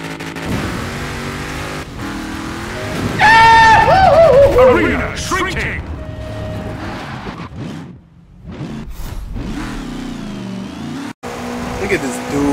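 Race cars in Forza Horizon 4 accelerating hard, engines revving loudly with a rising whine and tire noise, while people talk over the racing.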